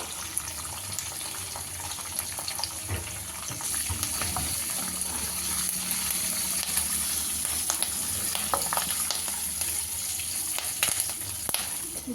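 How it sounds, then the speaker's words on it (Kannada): Dried red chillies and asafoetida frying in hot oil for a mango chitranna, a continuous close sizzle and crackle with scattered pops and light stirring clatter throughout. "ಫ್ರೈ ಆಗಲಿ"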